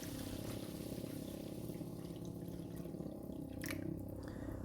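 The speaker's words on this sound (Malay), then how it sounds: "Kemudian masukkan pula air. Air ni untuk kuah tom yum." Water poured into a cooking pot for the broth of tom yum soup, a steady continuous trickle and splash heard close up with no talking.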